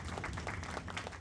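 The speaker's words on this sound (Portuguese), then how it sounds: "Uma salva de palmas para Cristiano Teixeira" Applause for a guest consultant introduced on a Portuguese-language trade webinar about Covid-19 and foreign trade, a short burst of clapping with a thin, boxy quality rather than a large live crowd.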